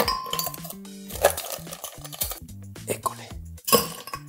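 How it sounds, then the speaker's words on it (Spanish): Ice cubes clatter into a Power Blender Max jar for a frappuccino, loud irregular clinks and knocks in several bursts, close and alone without talk. "necesitamos una buena dosis de hielos"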